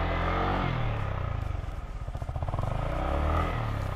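A motorcycle rides off-road on rough terrain, its engine droning loud and close with a rhythmic pulsing that dips and then swells again, and a faint voice can be heard underneath.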